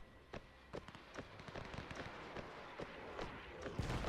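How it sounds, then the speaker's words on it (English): Artillery fire in the WW1 video game Between Empires, a string of sharp distant blasts and thuds landing irregularly over a low battlefield rumble, with a heavier burst near the end. "oh, the artillery is now focusing on me."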